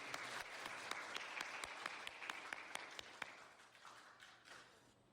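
Church congregation applauding the students after their worship songs, a room full of steady clapping with sharp individual claps standing out, fading gradually toward the end.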